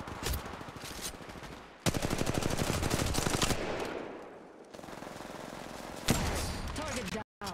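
Gunfire in the mobile shooter game Apex Legends Mobile, rapid automatic bursts of dense, loud shots with brief pauses and mechanical clatter, a voice speaking over the action.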